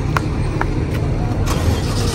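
Car driving through Saudi Arabia toward the high-speed train station, a steady close engine and road rumble with faint intermittent ticks over the top.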